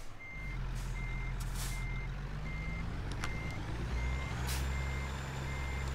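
Reversing beeps from a truck backing up in the video game American Truck Simulator, a steady run of evenly spaced beeps over a loud low engine drone, with brief hisses of air brakes.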